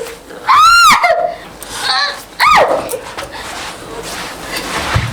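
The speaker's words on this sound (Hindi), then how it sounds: "क्यों चीख रही थी?" A woman screams in a rural crime drama, giving two loud, close, piercing cries about two seconds apart over a noisy background with some talk.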